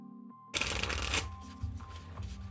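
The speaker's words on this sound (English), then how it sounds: "Final shuffle, final cut." Tarot cards are shuffled close up, a loud riffling burst followed by softer sliding and tapping of the deck over faint background music.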